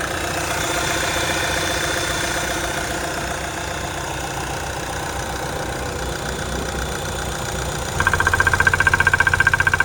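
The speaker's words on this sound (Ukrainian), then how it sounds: "Моторчик робить рівненько" A Renault Scenic 3 1.6 diesel engine idles with a steady low rumble and faint ticking, then turns louder and more rhythmically clattery in the final two seconds.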